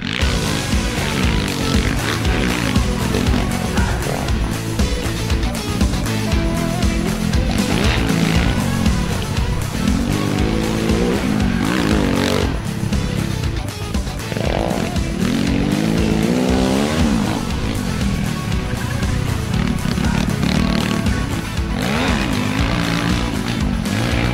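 A Cannondale MX400 motocross bike is ridden hard around a track on a fast lap, its engine screaming loud and close, rising and falling through gear changes for the whole stretch, with no talking.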